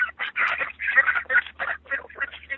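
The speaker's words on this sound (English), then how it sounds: "Is there a flock of ducks by you?" A flock of ducks quacks in a rapid, overlapping string of nasal calls, close and fairly loud, with no talking over them.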